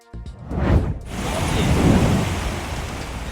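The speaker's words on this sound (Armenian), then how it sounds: "Վոլգոգրադում տեղացած հորդարատ անձրևները հեղեղել են ամբողջ քաղաքը" A thunderclap cracks and rumbles at the start, then heavy rain roars in a broad, steady wash during a downpour that floods the city of Volgograd, staying loud to the end.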